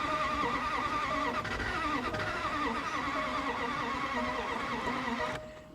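An old Range Rover engine with a fault letting exhaust gases gush back out turns over repeatedly in a steady, continuous grinding crank without catching, close and loud, then cuts off abruptly near the end.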